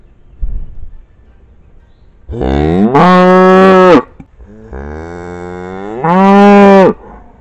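A single cow moos twice, each long, loud and close, rising from a low groan into a sustained bellow, with a short softer lowing between them and no other animals or talk around.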